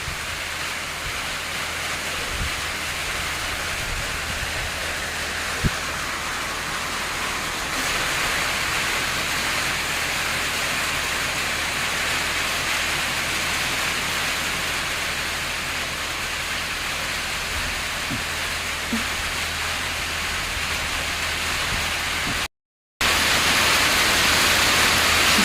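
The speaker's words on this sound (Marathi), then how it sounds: "जोरदार पाऊस." Heavy rain pours down at night in a village, a dense, steady hiss that runs unbroken, with only a brief dropout near the end.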